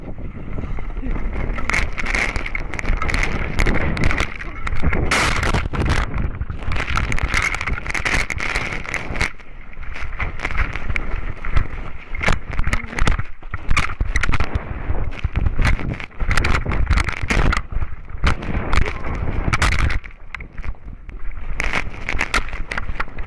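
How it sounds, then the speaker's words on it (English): A climber tumbles down an icy mountain gully, with repeated sharp impacts against boulders and ice and bursts of buffeting wind noise on a body-mounted camera, loud and chaotic throughout. "The footage shows Roberts hitting boulders and ice as he fell down the gully"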